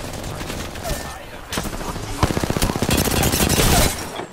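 Rapid automatic gunfire from the video game Apex Legends rattles loudly and continuously as a dense, fast burst under layered game sounds. A player talks excitedly over it.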